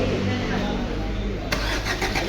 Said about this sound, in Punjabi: ਆ ਤੁਸੀਂ ਵੇਖੋ ਹੁਣ ਗੱਡੀ ਸਟਾਰਟ ਕਰਨ ਲੱਗੇ ਆਪਾਂ